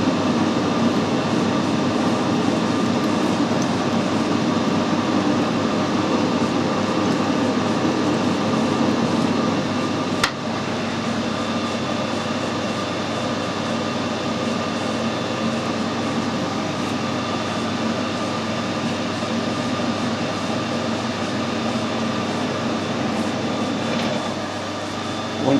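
A lathe screw-cutting a metric thread into an aluminium vintage motorcycle oil filter gives a steady, loud motor drone with a faint cutting hiss, a single sharp click near the middle, and no change in its even running.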